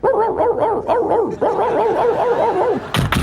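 A dog barks repeatedly at something inside a tour bus in quick bursts, close and loud, with a brief sharper noise at the very end.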